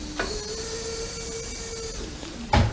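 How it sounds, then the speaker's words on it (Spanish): Steady hiss and whir of oil recirculating inside a hydraulic bottle jack, a constant internal flow noise with faint tonal whine, ending in a short clunk. "Ese sonido que se escucha es un sonido de recirculación de aceite."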